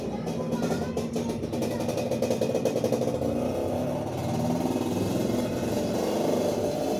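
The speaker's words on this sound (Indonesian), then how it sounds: "bentar ada suara motor" A motorcycle engine drones steadily past at mid distance, a continuous moderate hum that swells slightly near the end, with no talk over it.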